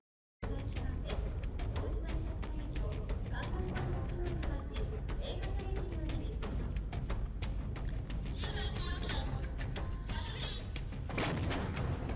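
A Japanese self-propelled artillery gun fires in a dense, loud series of sharp blasts and booms that continue throughout, with faint voices in the background.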